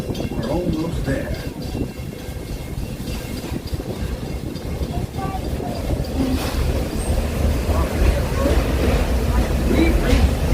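A theme park train ride at Magic Kingdom rumbles steadily as it arrives at Frontierland Station, with a continuous low rolling noise that grows slightly louder while a voice speaks over it.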